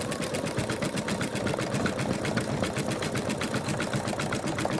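A sewing machine stitches the body outline of a teddy bear, its rapid needle chatter running steadily and evenly throughout at moderate volume.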